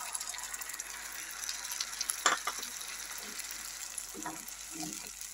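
Ginger, garlic and green chili paste frying in a pan, a soft steady sizzle with a few sharp spatters and clinks of stirring, fairly quiet and with no talking.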